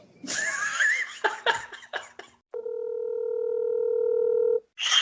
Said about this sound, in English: So let's get Erick on the phone